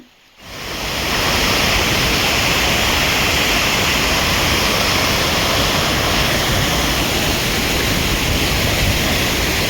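Steady roaring rush of a waterfall pouring down between hills in Andhra Pradesh, loud and continuous, a dense broadband wash with no voices.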